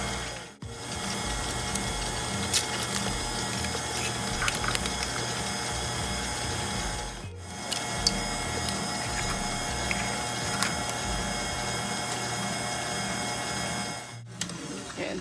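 An electric mixer beats eggs into lemon loaf batter, a loud, continuous mechanical whir with rattling, stopping briefly twice before starting again.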